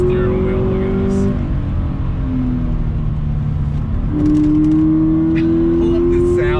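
A 2020 Toyota 86 Hakone Edition engine hums on throttle through bends, a steady in-cabin drone that dips then climbs in pitch as revs rise, with someone talking over it.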